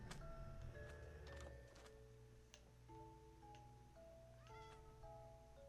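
Cat meows from the Minecraft video game, a few short game-sound calls over a steady background of looping game music and ticking effects, no talking.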